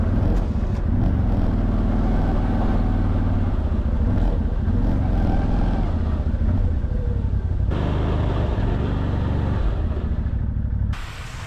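A CFMOTO CFORCE 1000 ATV fitted with a KFI plow clears snow along a sidewalk, its engine a loud, close, continuous rumble that shifts slightly in pitch as it works, then drops off abruptly at the very end.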